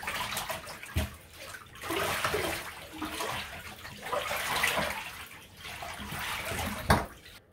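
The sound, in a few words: scrubbing an item in a tub of water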